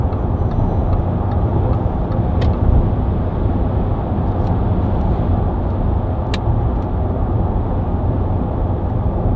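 A Range Rover Westminster 4x4 with a 4.4 TD V8 cruises down a motorway, giving a steady, loud roar of engine, tyre and wind noise from inside the cabin, continuous with no talking.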